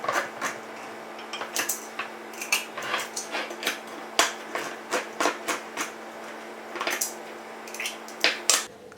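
Manual can opener working around a can of diced tomatoes in a home kitchen, a series of irregular metallic clicks and squeaky crunches, moderately close, with no speech.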